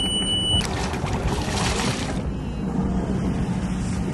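A sailboat's inboard engine, just back in service after a water pump repair, runs at a steady, loud, even drone with a constant wash of noise and no break.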